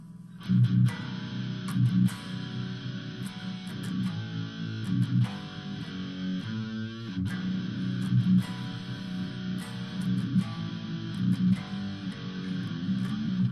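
Distorted electric guitar playing a riff over a steady backing, thick and saturated, continuous throughout.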